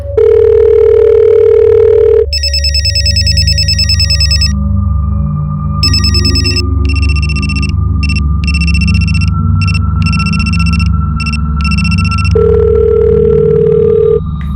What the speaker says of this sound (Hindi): फोन बज तो रहा है लेकिन वो उठा नहीं रहे।